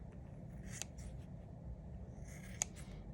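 Small scissors make two quick, faint snips while trimming the edges of a needle-felted wool bird, with a soft rustle in between over a quiet background.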